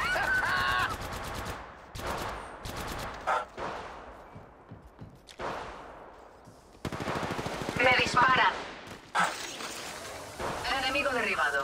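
Rapid automatic gunfire bursts in the mobile battle royale game Apex Legends Mobile, with repeated volleys and short gaps. Game sound effects and player voices mix in around the shots.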